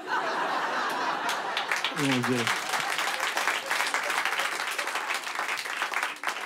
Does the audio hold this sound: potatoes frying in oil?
no